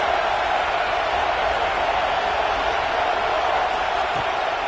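Steady roar of a stadium crowd at a college football game, a dense continuous wash of noise with no breaks, loud and even throughout as the offense faces the crowd.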